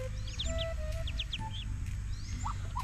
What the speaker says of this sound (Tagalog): Yung mga pato.